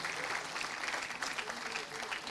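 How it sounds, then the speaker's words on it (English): An audience at a film festival's grand inaugural ceremony applauds to welcome a jury member, a dense, steady wash of clapping from many hands, sustained and even throughout. "Please welcome with a round of applause Mr."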